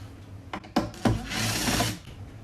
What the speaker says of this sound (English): So you either use the Phillips head or a 1/4-inch socket, and just reach down in there, unscrew those two.